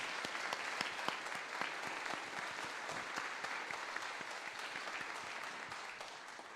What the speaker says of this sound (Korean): 우리 크게 다시 한번 격려의 박수 드리겠습니다